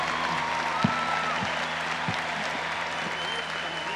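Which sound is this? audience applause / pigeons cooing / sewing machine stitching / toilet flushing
audience applause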